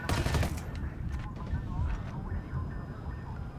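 Gunfire from a camp entrance in the video game Ghost Recon Wildlands: a quick burst of rapid automatic shots at the start, then scattered distant pops under ambient game noise.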